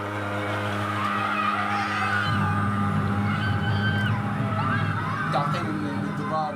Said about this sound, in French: Ah, ce bruit, c'est le camion qui sert à désinfecter les rues.